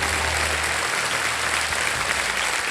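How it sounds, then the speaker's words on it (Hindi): A studio audience on the game show KBC applauding, a dense, even roar of clapping that holds steady from start to finish with no talk over it. "तालियां बजती रहे देवी और संजय"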